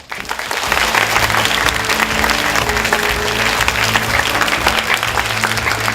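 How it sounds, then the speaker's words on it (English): Students in a school hall at an English singing contest give a loud, sustained round of applause, thick clapping that runs continuously over a low, steady tonal hum. "Please give yourself a big round of applause for all the efforts you put into the show"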